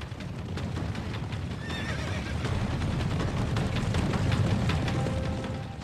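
A herd of wild horses gallops across open prairie, dense thundering hooves with sharp neighs and whinnies rising above the continuous roar, loud and sustained throughout.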